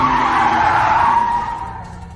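Tires squeal loudly as a car brakes hard on a highway, a sustained screech that fades off toward the end.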